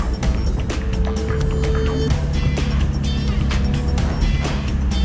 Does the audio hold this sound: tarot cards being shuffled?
no